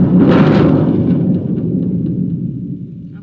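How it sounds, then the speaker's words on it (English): A concert bass drum is rolled with two mallets, building a loud, close, thunder-like rumble that swells early and then slowly fades, with no voices. "sometimes you do a roll on the bass drum,"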